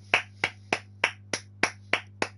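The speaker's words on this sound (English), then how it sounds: "Round of applause." A single person claps eight slow, evenly spaced times, near and crisp, forming a short, deliberate round of applause with no talking.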